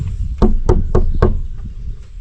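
Four firm knocks on the door of an old building, evenly spaced and close, resonant and hollow, followed by quiet.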